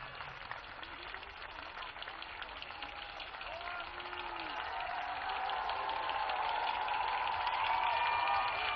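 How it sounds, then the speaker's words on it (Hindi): A large outdoor crowd at a Dussehra celebration in Delhi applauds the Prime Minister's arrival, with a dense wash of clapping that swells louder over time and faint voices beneath it. "जोरदार तालियों के साथ आदरणीय प्रधानमंत्री जी का स्वागत।"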